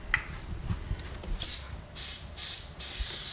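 A sprayer hisses in several short bursts, spraying skim coating onto a very rough wall, loud and close, with light handling noises between the bursts.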